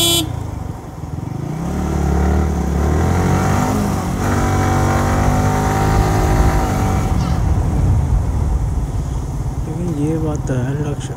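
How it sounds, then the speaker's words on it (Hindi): A Yamaha R15 motorcycle engine drones loudly and continuously as it is ridden, its pitch rising and falling with throttle changes, and a horn-like tone sounds near the end. "R15 को ना भगाने में जो मजा आता है ना"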